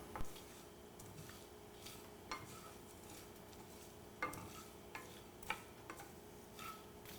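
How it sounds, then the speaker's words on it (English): Whole spices for pho, cinnamon, nutmeg, star anise, fennel and coriander, toast in a dry pot with a faint steady sizzle, punctuated by a few light ticks and knocks as they are stirred and shifted. "I'll toast these seasoning spices"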